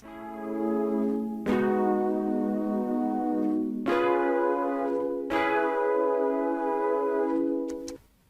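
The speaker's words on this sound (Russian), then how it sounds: "это звуки механики клавиш." A layered synth pad with added keyboard key-mechanism noises plays sustained tonal chords that change about three times, each entry marked by a soft clicky attack, then the chords cut off near the end.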